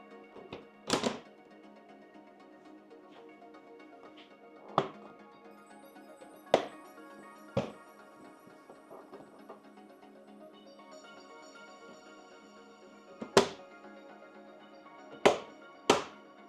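Plastic clips and trim pieces of a BMW R1300 GS headlight protector and beak being fitted by hand, giving a few sharp, close snaps and thunks spread out over quiet handling noise.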